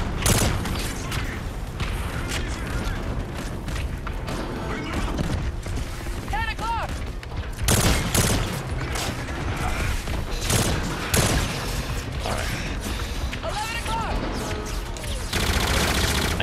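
Gunfire in the video game Call of Duty: Infinite Warfare, loud continuous bursts of automatic weapon fire with booms, mechanical clanks and synthetic game effects filling the whole stretch, dense and close throughout.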